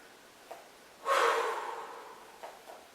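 A person breathes out hard while shaking the hands loose, making one strong, breathy exhale close to the listener after a faint breath, followed by a few soft breath sounds in a quiet room.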